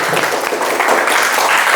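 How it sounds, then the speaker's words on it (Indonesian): A classroom of schoolchildren claps together, a dense, loud patter of small hands that holds steady for a couple of seconds without speech. "Ya, tepuk tangan untuk semua."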